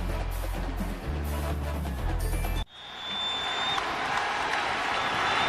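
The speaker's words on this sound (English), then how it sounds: "this crowd here at Reliant Stadium trying to urge the Cougars on" Football crowd at Reliant Stadium in Houston urging on the Cougars, a distant, steady roar of cheering and applause that rises after a sudden cut and holds at a moderate level.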